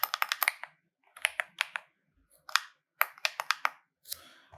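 Crisp, close keystrokes on a computer keyboard while typing Odoo code, coming in rapid bursts of several clicks with brief silent gaps between them, loud and alone.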